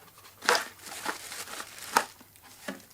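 Plastic packaging of an accessory pack being opened, several crinkles and rustles close by and moderately quiet, with no talking.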